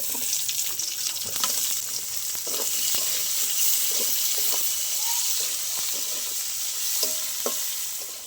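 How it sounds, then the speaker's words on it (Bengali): Chopped onions fry and get stirred in hot oil, with a steady broadband sizzle running throughout and scattered scraping stir strokes against the pan, close and moderately loud, with no talking. "পেঁয়াজটা এরকম ভাজা হয়ে গেছে, খুব বেশি লাল করিনি, এইরকম করে ভেজে নিয়েছি।"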